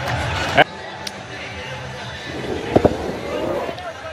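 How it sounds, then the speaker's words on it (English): A stadium crowd roars and cheers after a batsman hits a six into the stands at a Qatar T10 League cricket match. The steady broadband crowd noise continues under a commentator's talk, with a couple of brief sharp bangs. "That is into the stands and the crowd loves it."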